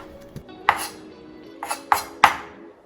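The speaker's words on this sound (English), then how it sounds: "Once you're done chopping the core in the center" A few sharp knife strikes hit a cutting board as a cabbage core is chopped, irregular and close, with quiet pauses between the chops.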